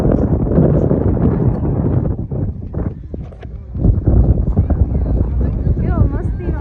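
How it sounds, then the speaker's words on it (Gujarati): Wind gusting across a beach during a family seaside outing, buffeting the microphone with a heavy low rumble that swells and eases throughout, while people talk over it. "કેવો મસ્તીનો પવન આવે છે"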